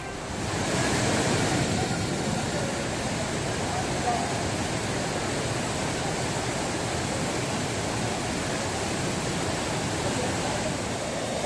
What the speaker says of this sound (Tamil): மேற்கு தொடர்ச்சி மலையில் பெய்யும் கனமழை காரணமாக ஆர்ப்பரிக்கும் குற்றால அருவி